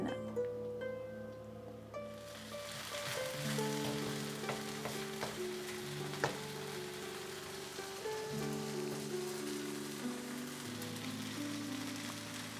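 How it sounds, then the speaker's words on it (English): Vegan Thai green curry paste frying in oil over low heat, a steady bright crackling sizzle that starts after a quiet moment and then runs continuously with faint popping, close up, no talking. "you're going to heat up the green curry paste that you prepared"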